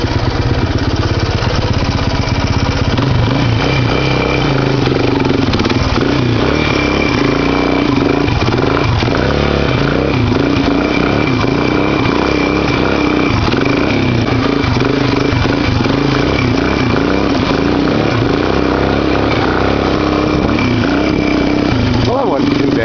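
A Honda XR185 motorcycle engine climbs a rocky mountain trail, loud and continuous close to the rider, steady droning rumble with slight throttle swells and rough wind buffeting throughout.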